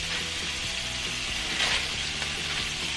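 Scallops sizzle steadily in a hot pan as butter is spooned over them, a loud continuous frying hiss with faint scraping and clinks of the spoon against the pan throughout, no voices.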